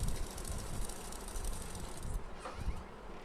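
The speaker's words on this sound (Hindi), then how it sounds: "यहाँ पर मैं पक्की सिलाई लगा रही हूँ" Sewing machine running a firm straight stitch joining a lehenga's lining and main fabric, a steady mechanical rattle with rhythmic needle ticks, close and continuous throughout.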